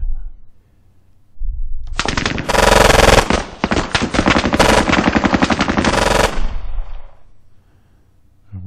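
A video game firefight: loud, sustained automatic gunfire rattling in dense, overlapping bursts for about five seconds, then dropping off sharply, with no talking over it.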